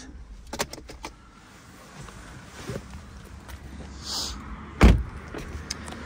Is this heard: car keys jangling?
yes